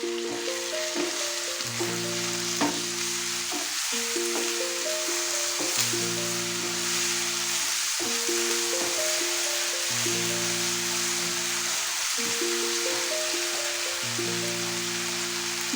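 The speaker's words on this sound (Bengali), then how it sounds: "ভালো করে এটাকে কষিয়ে নিতে হবে।" Chicken sizzles in a pan with garlic and ginger paste, a steady close frying hiss that runs throughout under music.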